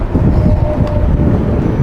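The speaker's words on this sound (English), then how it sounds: "Yeah, it is windy up here." Wind gusting across a rooftop during an electrical job, a loud, rough roar buffeting the microphone with low rumbling and no speech.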